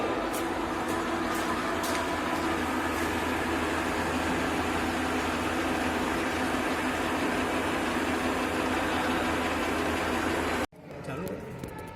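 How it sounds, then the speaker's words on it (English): Lathe running at 475 RPM on a finishing cut for taper turning of mild steel: a steady, broad mechanical whir and hum with a voice over it, which cuts off abruptly just before the end. "So now machine is running at 475 RPM and it is final finishing cut for the taper turning."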